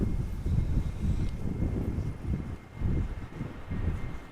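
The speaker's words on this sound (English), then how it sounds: "this A321neo is arriving from Toronto, Canada" An Airbus A321neo airliner arrives at Amsterdam Schiphol in crosswind conditions. A broad, rumbling roar of jet engines mixes with gusting wind buffeting the microphone, heard at a distance and pulsing unevenly.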